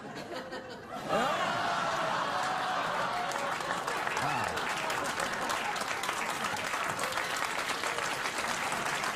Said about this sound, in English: You applaud now